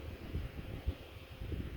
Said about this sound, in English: It is very noisy today, very windy.